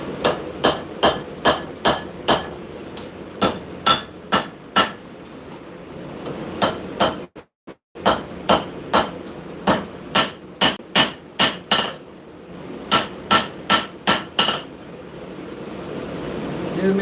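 A smith hammers on the butt of a blade held off the edge of an anvil in a forge, ringing blows falling in quick uneven bursts with short pauses, close and loud.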